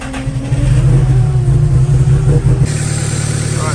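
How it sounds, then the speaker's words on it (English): A vehicle engine idling and revving loudly and steadily close by, a deep low rumble that changes tone and settles into a steadier run near the end, with no voices. "Let's go and start the vehicle"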